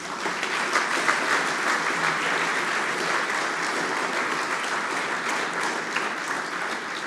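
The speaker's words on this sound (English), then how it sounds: "another round of applause" Sustained audience applause at a programming contest closing ceremony, a dense, steady wash of many hands clapping at fairly close range, holding even in level for the whole stretch with no voices over it.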